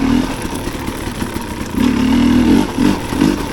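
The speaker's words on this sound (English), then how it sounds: "So I'm riding this bike, lugging it a gear high" A motorcycle fitted with a Smartcarb carburetor lugs along a gear too high, giving a low, uneven engine drone that swells and dips in pulses, close and loud with no talk.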